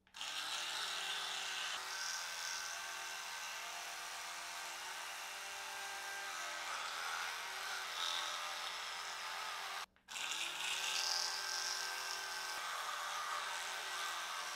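Electric toothbrush brushing teeth, a steady close buzzing hum with shifting tone as it moves around the mouth, briefly cutting out and restarting near the end.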